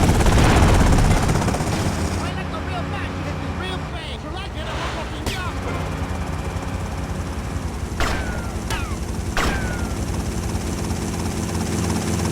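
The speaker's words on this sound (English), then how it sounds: "they've got a helicopter!" A helicopter's rotor thumps loudly at first, then settles into a steady drone beneath game sounds from Grand Theft Auto: Vice City on PS4, with a few sharp cracks like gunshots later on.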